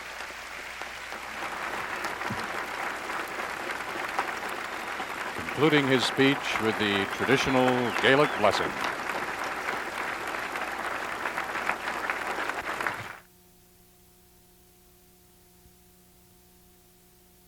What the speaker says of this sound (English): the assembled thousands rise, applauding Cornell President Frank